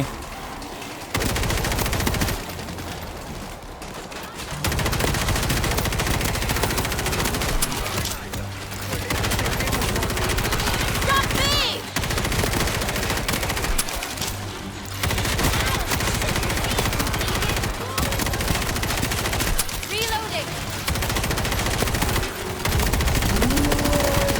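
Sustained automatic gunfire from a team of players fighting zombie hordes in World War Z at the Marseille missile command stage, dense bursts running nearly the whole time with brief gaps, loud and close.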